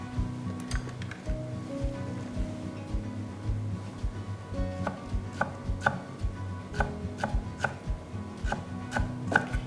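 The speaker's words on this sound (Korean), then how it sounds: "숨 죽으면 꺼내서 찬물에 헹궈가지고 송송 썰 거예요" Rapid, even chopping of blanched water dropwort (minari) on a cutting board, the knife tapping out a brisk rhythm close to the microphone.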